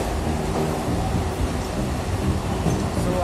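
The interior of a moving train rolls on with a dense, steady rumble and rattle of the carriage, loud and continuous, with no talking.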